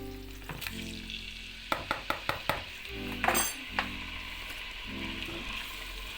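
Cubed meat sizzling and frying in hot oil for okra soup, a steady crackle broken by several sharp clinks of a utensil against the pan.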